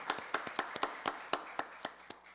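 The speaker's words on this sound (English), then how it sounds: "Let's give her a round of applause" A few people clapping at a county board of commissioners meeting: a sparse run of about a dozen distinct, separate claps in an uneven rhythm, fairly close and modest in level, without any talking.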